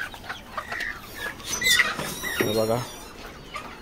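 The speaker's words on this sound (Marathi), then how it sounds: "आपण इकडे कोंबड्या सुद्धा बसवलेल्या आहेत अंड्यासाठी." Hens in a poultry shed kept for eggs give a few clucks and squawks close by, mixed with a person talking over them.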